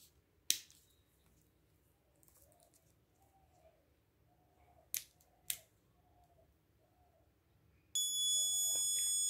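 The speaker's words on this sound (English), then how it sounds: "the alarm should be on." A few sharp clicks, then near the end a loud, steady electronic buzzer tone from an ultrasonic-sensor obstacle alarm starts and holds without a break.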